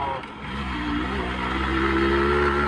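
A motorcycle engine on a Yamaha RX100 revs steadily and loudly, its pitch climbing and holding for a few seconds with no talking over it.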